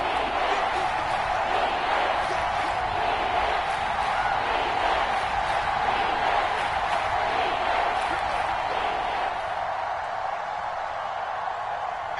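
A stadium crowd in a video game football broadcast cheers in a steady, distant roar that holds evenly throughout.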